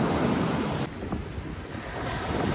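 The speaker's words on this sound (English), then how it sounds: "Watch out for the water. The wave's coming." Surf at Pfeiffer Beach in Big Sur, California rolls in as a steady broad wash of breaking waves, close and continuous, easing briefly in the middle before building again, with no talking.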